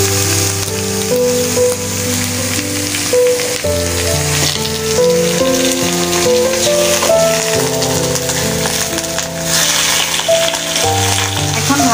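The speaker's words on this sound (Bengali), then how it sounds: "মাংসগুলো ঢেলে দিবেন ভাজার জন্য। মাংসগুলো ভেজে নেব।" Beef sizzles and crackles loudly in a pan with browned onions, a steady, dense frying hiss lasting throughout, close up, with a faint musical background underneath.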